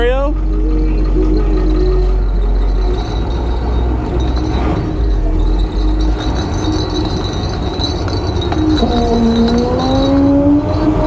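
A Jeep CJ8 engine running loud and close with a deep steady idle rumble, joined by whining tones that rise near the end. A person talks over it.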